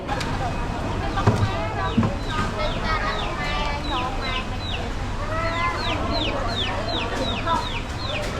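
Many chickens cluck and squawk busily nearby, with a few thuds and the hum of a crowded market around them, and voices talking, at the Central Market in Phnom Penh, Cambodia.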